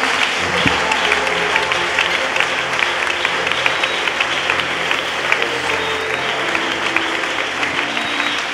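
A church congregation applauds Jesus in a loud, sustained round of clapping that holds steady throughout, with a few voices mixed in among the crowd.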